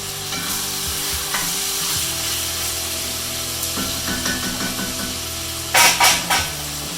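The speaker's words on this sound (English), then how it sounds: "So I'm just going to let that sear off in the oil." Chicken sears in hot oil in a pan for Thai red curry, a steady close sizzle with a few scrapes and stirring knocks near the end.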